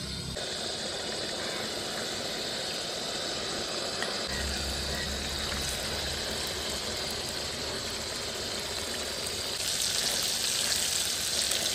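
Fish frying in hot oil in a home kitchen, a steady close sizzle and hiss throughout that grows slightly brighter and louder near the end, with no talking.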